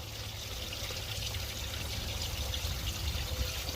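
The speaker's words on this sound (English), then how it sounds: "Now we have water flow." Water flowing and pouring steadily through the heater system of a 2013 Dodge Ram, a constant rushing trickle that swells slightly toward the end, with no voices.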